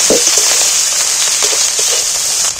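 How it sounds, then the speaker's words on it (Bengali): Ginger garlic paste being stirred and fried in hot oil with onions, a loud continuous close sizzle with light scraping of the stirring spoon throughout. "এইটাও একটু পেঁয়াজের মধ্যে তেলের মধ্যে নেড়ে নিচ্ছি, একটু ভাজা ভাজা করে নেব।"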